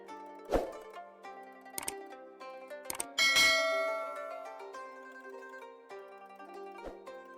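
A notification bell sound effect: several bright, ringing dings and chimes with lingering tones, some struck closely together, over an otherwise quiet background.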